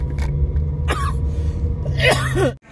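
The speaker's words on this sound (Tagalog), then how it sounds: "Sige. Ubo pa more." A couple of rough, throaty coughs break out over a steady low engine hum inside a moving car, with a voice briefly mixed in.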